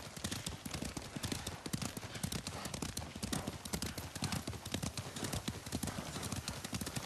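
Horses walking in the video game Ghost of Tsushima, hooves clip-clopping in a steady, close, continuous rhythm.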